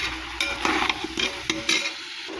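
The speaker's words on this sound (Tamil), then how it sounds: "போட்டு நல்லா கிண்டி விட்டுக்கோங்க." Spices are stirred into sambar rice in a pan, each close scraping stroke brushing over a faint sizzle in a quick, uneven rhythm, with no voices.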